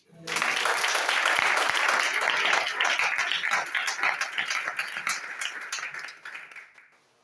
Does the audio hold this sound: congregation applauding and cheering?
yes